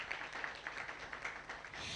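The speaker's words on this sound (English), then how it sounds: "A round of applause for him." An audience at a senior high school debate competition applauds a judge, a steady, moderately distant roar of many hands clapping that swells slightly in pulses.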